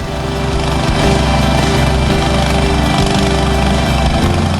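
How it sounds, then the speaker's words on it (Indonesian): A machine drills a bore well at a refugee camp in Tuka, Central Tapanuli, Sumatra, a loud, steady, unbroken engine drone with a grinding rattle that stays level throughout, no voices. "personil Brimob membuat sumur bor di lokasi pengungsian"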